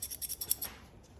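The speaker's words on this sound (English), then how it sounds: "Oh, pair of scissors." A pair of scissors being picked up and handled among metal scrap in a bin: a quick run of light metallic clicks and scrapes close by, fading after about a second.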